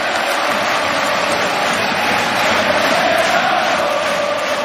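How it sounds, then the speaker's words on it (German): Ice hockey arena crowd roaring and cheering after a goal in a deciding playoff final game, with the players' bench and coaching staff celebrating; a dense, steady wall of cheering and noise that holds loud throughout. "Großer Jubel auf der Spielerbank, inklusive Coaching-Staff."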